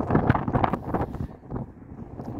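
Wind buffets a microphone in open green countryside near Stonehenge, England, a low rumbling roar rising and falling in gusts, fairly close and steady with no talk.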